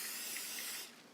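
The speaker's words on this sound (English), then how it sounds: "take your cooking spray, shake it up really good, hold it a little ways away from you" Cooking spray hisses from a shaken can into a mug in a single steady burst of about a second that cuts off abruptly, close and fairly quiet, with no talk.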